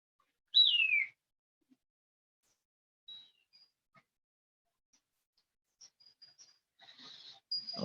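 Sparse bird chirps, one clear descending tweet near the start, then faint scattered high chirps and a brief cluster toward the end, heard alone in a quiet room.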